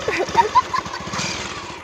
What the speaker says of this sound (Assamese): বাইকখন ষ্টাৰ্ট দি ঐ, ষ্টাৰ্ট দি যাম।